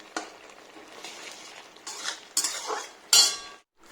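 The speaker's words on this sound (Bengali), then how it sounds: "চলো এটা পোস্তটা মাখিয়ে এবার নামিয়ে নেব" A utensil scrapes and clinks in a pan as poppy seed paste is stirred into a dish, in a few short, separate strokes that get sharper and louder toward the end.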